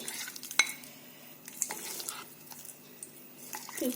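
Batter-coated paneer pieces tossed gently with cornflour make faint, soft scrapes, taps and a few light clinks of utensils, quiet and close, without speech.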